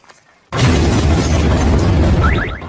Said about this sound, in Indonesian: mobil yang terkena api akhirnya meledak